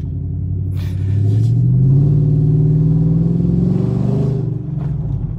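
Exhaust drone of a 2015 Chevrolet Silverado fitted with a Borla ProXS muffler, heard from inside the cab with the windows up on a two-lane road: a steady, loud low rumble that swells as the truck accelerates, then eases off.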